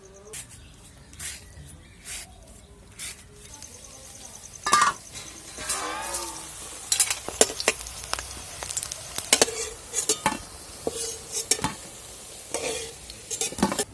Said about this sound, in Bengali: এই জিরাটা ফোড়ন দিয়ে দিচ্ছি এলাচ আর লবঙ্গ দিয়ে দিচ্ছি ফোড়ন।